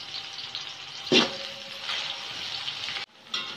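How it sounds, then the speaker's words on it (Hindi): Onions frying in a pot over a high flame for chicken-feet pulao, with a steady soft sizzle, one sharp stirring clatter and a brief pause before the sizzling picks up again. "फ्लेम को हम हाई कर देंगे और प्याज को हम फ्राई करेंगे"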